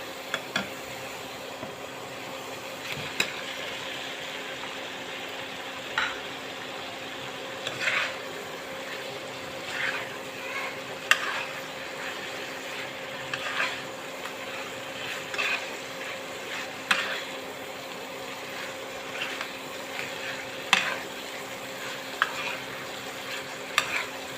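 Hilsa fish cooking in a pan with banana flower, a steady low sizzle of frying with scattered soft stirring scrapes and taps throughout, no voices.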